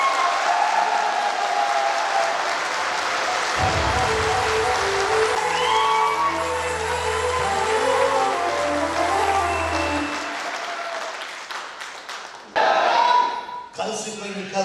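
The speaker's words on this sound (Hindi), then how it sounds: "सारे जिंदा दिल लोग अपने लिए पूरी वाली ताली बजा दो।" Audience at a live show claps in a long, dense burst of applause that fills the space, mixed with crowd noise and a voice, and a brief break near the end.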